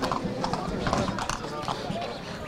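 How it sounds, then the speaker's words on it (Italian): Horses with riders arrive in a traditional parade for the patron saint festival in Santo Stefano Quisquina, hooves clip-clopping in a dense, continuous crowd din with voices throughout. "Intanto i cavalli e i loro cavalieri iniziano ad arrivare."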